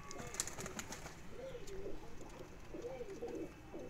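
Kamager pigeons give several soft, low coos in close succession against a steady background murmur, with no talk.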